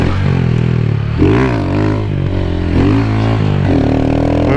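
A Honda Fan 150 motorcycle, loud and close, its engine revving up and dropping back as the rider pulls on the throttle and then brakes, with the pitch climbing and falling in repeated waves.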